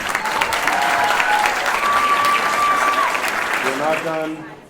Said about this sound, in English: Another round of applause for Dr. Sue Kim.